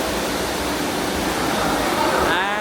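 Steady rushing water fills the water area at teamLab in Tokyo, a dense, continuous wash close by and fairly loud, with a brief brighter splash near the end.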